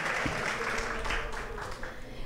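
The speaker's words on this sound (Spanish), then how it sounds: "un fuerte aplauso" Audience applause at a departmental Bambuco pageant registration, a steady wash of clapping with voices mixed in underneath.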